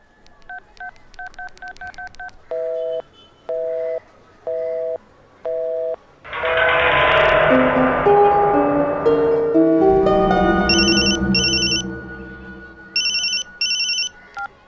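A landline telephone keypad dials a quick run of beeping touch tones, followed by a loud, dense burst of sound and then repeated electronic ringing in short, even pairs.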